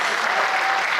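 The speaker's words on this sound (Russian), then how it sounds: "Еще раз ваши аплодисменты" A theater audience at a KVN comedy league quarterfinal claps in loud, dense, continuous applause, a full crowd sound filling the whole brief moment.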